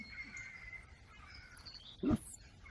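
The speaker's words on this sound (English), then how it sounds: "hopefully you can just hear birds song in the background" Faint birdsong drifts through a quiet outdoor scene, then one harsh crow caw rings out near the end.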